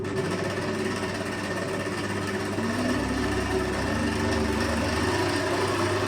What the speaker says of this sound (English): you just want to again mix that on a slow speed just until it's all combined